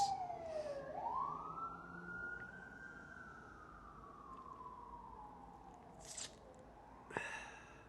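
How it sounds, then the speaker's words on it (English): An emergency siren wails in a long rising and falling sweep, moderately distant and fading as it passes, with brief noises near the end. "of all the times for a siren to come through"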